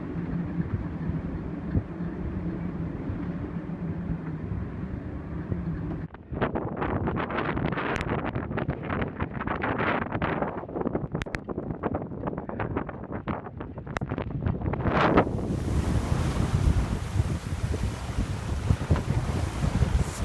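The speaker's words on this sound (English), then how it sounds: "the wind has just suddenly picked up from, I'd say, 5 knots to probably 12" Wind rising over open water aboard a sailing boat, a steady low rush that turns into heavy gusting buffeting from about six seconds on, with broadband roar and flapping, strongest near the end.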